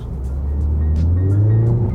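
A MINI Countryman S engine revs up briefly, with an added synthetic engine tone played through the cabin speakers; a steady low hum climbs smoothly in pitch and holds, heard close from inside the car.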